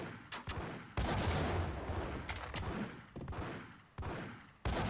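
Bursts of gunfire in the Max Payne video game, several loud volleys of rapid shots separated by brief pauses, close and punchy with no talk.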